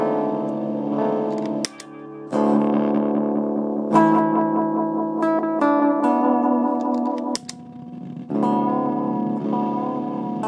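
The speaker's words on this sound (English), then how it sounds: "It gets a little bit noisy on the max delay for some lo-fi repeats." Dirgetone Dirgedweller delay pedal set to maximum delay time, giving noisy lo-fi repeats of a sustained, reverberant chordal tone that swells and cuts in several sections, with faint echoing trails between phrases.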